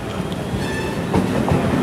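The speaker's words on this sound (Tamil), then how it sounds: "நம்ம லோக்கல் ட்ரெயின் வந்துருச்சு." A Chennai suburban local train bound for Beach station pulls in, loud and close, with rumbling wheels and clickety-clack over the rails.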